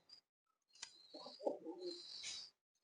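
A soft, low coo in a pigeon loft with young pigeons, a single short bubbling call heard up close in an otherwise quiet setting, with a faint chirp before it.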